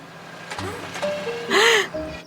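A cartoon dump truck with a broken tailgate blares loud, tuneful music, bright synthetic melody lines swooping and bending over a low rumbling bed, growing loudest in a dense burst near the middle before settling, with no talking.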